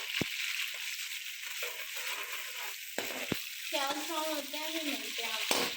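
Onions sizzle and fry steadily in a hot pan, a continuous crackling hiss with a few clinks of a spoon against the pan.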